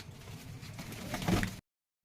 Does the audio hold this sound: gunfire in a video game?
no